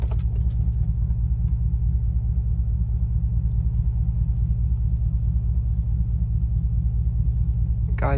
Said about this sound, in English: Guy's car next to me is making more noise than my car.